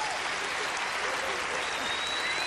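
Dense, sustained applause from a large audience after a Ukrainian folk dance performance, loud and continuous with no break, filling the whole moment.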